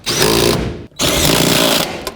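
A power tool whirs loudly and close as rear seat bolts are driven in on a 2007 Chevy Silverado Classic, two sustained buzzing runs with a brief gap between them.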